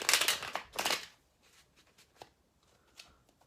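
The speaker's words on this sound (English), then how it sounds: "Just shuffling them on my knee." Chuck Spezzano love cards being shuffled on a knee: two loud riffling bursts, then softer scattered taps and flicks of cardstock.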